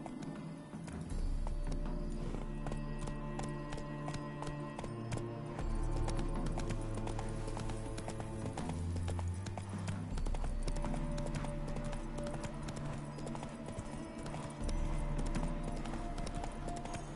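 Horse hooves gallop in The Witcher 3 video game, a continuous rapid clip-clop rhythm at moderate distance over game music and ambience, with no talking.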